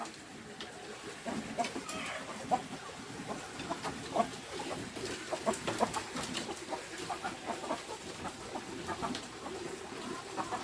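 Free-range village chickens kept above a fish pond cluck on and off in short, scattered bursts, moderately close, with some faint background bird and farmyard noise and no speech.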